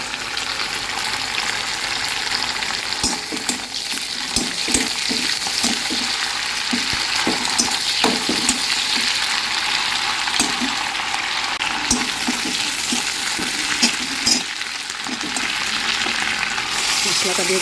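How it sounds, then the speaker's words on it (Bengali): Dried koira shutki fish frying in a pan of already-fried onions, a steady close sizzle with scattered clicks and scrapes of stirring throughout. "এখন শুটকিগুলি দিয়ে দিচ্ছি। শুটকিগুলি ভেজে তারপর মশলাটা দিয়ে দেবো।"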